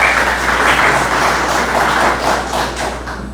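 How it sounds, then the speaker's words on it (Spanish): An audience at a legal conference applauds steadily, a dense wash of clapping with a slightly uneven rhythm across the short stretch. "Aplausos también, por favor."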